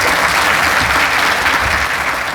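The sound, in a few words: audience applause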